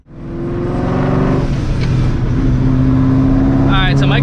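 A straight-piped, supercharged 2004 Mustang GT engine roars loud and close, holding a raw droning note before dropping pitch on a downshift, with a brief whine near the end; a voice speaks over it.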